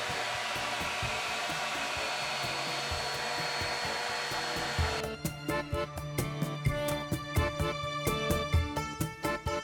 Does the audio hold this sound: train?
no